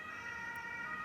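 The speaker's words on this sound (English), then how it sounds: "there's the first ambulance, the windows are open, so we better get used to that" An ambulance siren passing outside, heard through open windows, comes in as a faint, steady, continuous wail of distant tones under a quiet room hush, with no one speaking.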